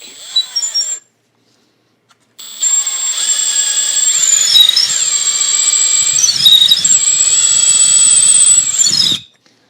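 A thin drill bit bores into a guitar bridge area with a loud, high whining squeal that holds steady for several seconds and wavers in pitch, following a brief earlier burst and a short pause.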